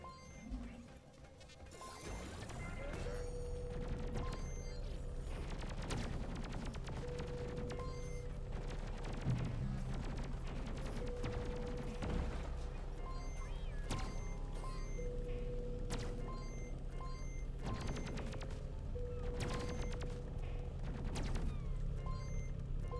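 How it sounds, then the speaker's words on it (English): Repeated explosions and blasts in a video game where a cellphone charger is involved, dense booming bursts and crashes filling the whole stretch at steady high loudness, with no talk. "That was a lot of explosions."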